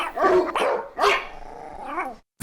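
A dog barks loudly and close up in a few sharp, gruff bursts with growly edges, each separated by a brief pause, and no one talks over it.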